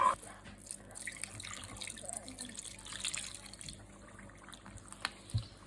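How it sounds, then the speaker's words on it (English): Hot water poured from a vessel into a bowl of handesh dumpling dough ingredients for a traditional Bangladeshi sweet, a quiet, steady trickling and splashing at close range with no talk. "So we're going to pour some of the water, not all of it, some of it into the ingredients."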